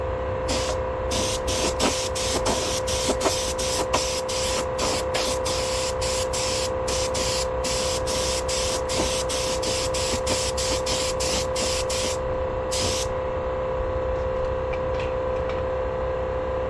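Spray painting a cover for a 1972 Honda CB500 Four motorcycle: a steady hiss of spray runs throughout, broken into repeated short bursts, close and fairly loud, with a constant hum underneath.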